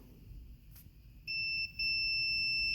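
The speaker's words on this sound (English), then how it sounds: "if I take the red and black lead of my meter and I touch them together, it should beep" A multimeter's continuity beep as its red and black leads touch: a high, steady electronic tone sounds briefly, cuts out for a moment, then holds continuously.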